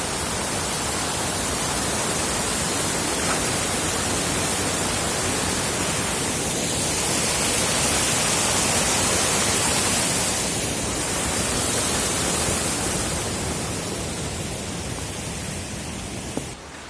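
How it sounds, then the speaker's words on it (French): River with small waterfalls in Baume-les-Messieurs, Jura, France: continuous broadband rushing water, loud and steady for the whole stretch, swelling slightly midway, with no voices. "Là, le bruit que l'on entend, c'est la rivière qui se trouve là."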